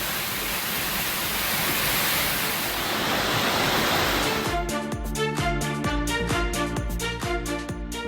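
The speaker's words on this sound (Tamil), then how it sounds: "மேற்கு தொடர்ச்சி மலைப்பகுதிகள் மற்றும் கும்பக்கரை நீர்பிடிப்பு பகுதிகளில் பெய்த கனமழையால் அருவியில் வெள்ளப்பெருக்கு ஏற்பட்டது" Roaring rush of the Kumbakkarai waterfall in flood after heavy rain, a dense continuous wash of water that runs for several seconds before a rhythmic mechanical pulsing takes over.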